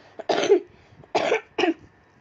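Three coughs from a person during a database coursework presentation: a brief throat sound, then two strong coughs, then a shorter third one, close and loud against a quiet room.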